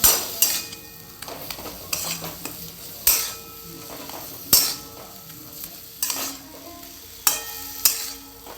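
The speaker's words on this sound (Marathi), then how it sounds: "याला छान परतून घेऊ" Ridge gourd is sautéed with salt in a pan, a spoon scraping and clanking against the metal in repeated bursts over a faint sizzle.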